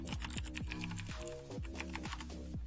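Rapid keystrokes on a computer keyboard, close and fairly loud, a steady run of sharp clicks with brief pauses, alone with no talking.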